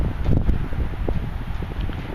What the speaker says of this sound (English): It's fucking windy today.